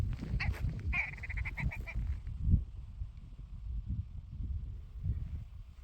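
A local bird on a Northumberland moorland path lets out a sudden burst of rapid, harsh honking calls close by, fading after a couple of seconds into wind and low rumbling.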